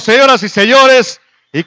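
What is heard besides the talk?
No everyday noises stand out.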